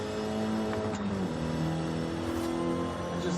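An Alfa Romeo 155 race car engine in Forza Horizon 5 revs steadily at high pitch, loud and close, with harmonic whine rising and falling slightly throughout, no voices.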